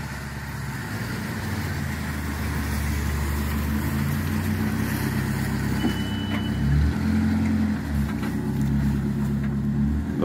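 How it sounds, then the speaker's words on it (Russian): An ambulance drives along a snowy street in Krasnodar, its engine a steady low rumble throughout, with a faint beep in the middle and no voices. "Скорая помощь едет на вызов"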